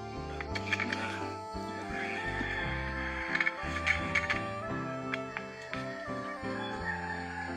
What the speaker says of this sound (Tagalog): Sorry lang po sa ingay ng manok